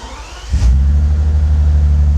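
A Bentley engine cranks and catches, a sudden start that settles into a loud, steady low idle rumble close by.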